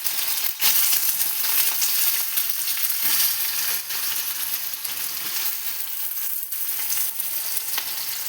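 Chili dropped into hot oil for a banana curry sizzles loudly and steadily, a dense, unbroken frying hiss with a few faint stirring knocks and no voices.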